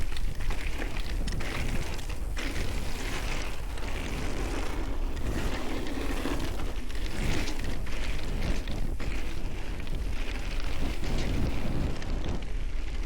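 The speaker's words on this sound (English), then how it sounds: "It's a bit windy here." Strong wind buffeting the microphone on an open, fairly flat stretch of mountain bike flow trail at The Gap, a continuous loud roaring rush with gusty surges throughout.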